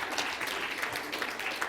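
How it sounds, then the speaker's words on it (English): An audience at an athletics awards event gives a round of applause, a brief, even spatter of many hands at moderate distance, fairly soft and without voices. "Round of applause for that."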